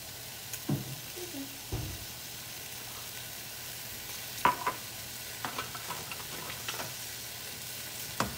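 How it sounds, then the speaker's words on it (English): Ham and rice stir and sizzle softly in olive oil in a pan, with a steady low fry and occasional spoon scrapes and clinks throughout. "And I'm just gonna stir this up, get this going."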